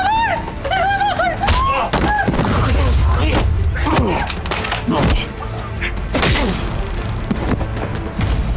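Gunfire erupts in a tense TV drama scene, a rapid series of sharp thuds and cracks mixed with shouting voices and loud impacts, close and chaotic.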